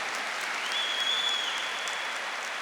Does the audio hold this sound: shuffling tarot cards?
no